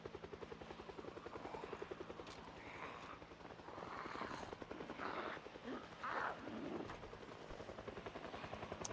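Helicopter flying over an airport in Project Zomboid, a steady rapid rotor chop sustained throughout, with bursts of game noise and muffled sounds layered on top.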